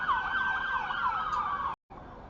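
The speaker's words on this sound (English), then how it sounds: "I don't know what's going on with the sirens. They're going crazy." Emergency vehicle sirens wail in a rising and falling sweep, loud and close as they pass through a street in Spartanburg, then cut off abruptly before resuming more faintly at the end.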